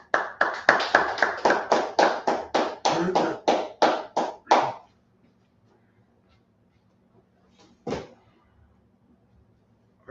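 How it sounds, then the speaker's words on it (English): A congregation at a Sabbath service claps hands in a quick, steady rhythm for about five seconds, loud and close, then stops abruptly. Near-silence follows, broken by one brief soft thump. "Clap it up."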